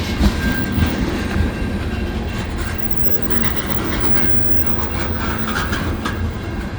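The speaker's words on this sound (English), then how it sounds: "It's all tankers." A long CN eastbound freight train made up entirely of tanker cars rolls past a pedestrian crossing in Saint Laurent at night. It gives a steady, loud rumble with rail clatter and faint metallic squeals throughout.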